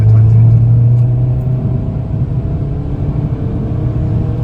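A Peugeot 208 GTI on a private road, its engine giving a deep, loud rumble at first that eases off into a steadier, lower drone, close by with no voices.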